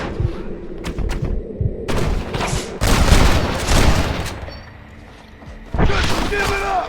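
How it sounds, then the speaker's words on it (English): A Gatling gun fires in the Red Dead Redemption video game, loud dense bursts of rapid gunfire and booms in several waves with a brief lull, while voices shout over the battle. "You man the Gatling gun,"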